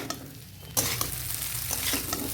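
Chow mein noodles being stirred and fried in mustard oil, a loud hiss of sizzling with scraping stirs, the sizzle rising sharply partway through.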